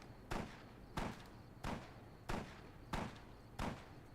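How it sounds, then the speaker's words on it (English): Gunshots in the game Fallout New Vegas sound as six evenly spaced, muffled bangs about every two-thirds of a second, each a short sharp burst with a brief tail, faint and distant. "You hear those gunshots, right?"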